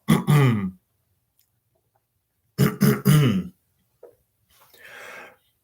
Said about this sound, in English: Trying to clear my throat for you all